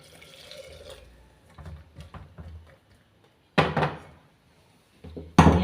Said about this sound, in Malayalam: അപ്പോൾ ഞാൻ കുറച്ച് ചുടുവെള്ളം ഒഴിക്കും.